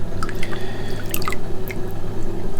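Water drips and trickles as it is drawn out of a nano reef aquarium. Several close, distinct drops fall over a steady low equipment hum, with no talking.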